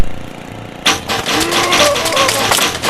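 Motorbike engine in the video game Happy Wheels revs up suddenly after a quiet moment, buzzing loudly and steadily with pitch rising and falling.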